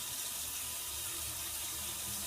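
Tap water running steadily into a sink while makeup brushes are washed, a loud close continuous rushing splash with no talking.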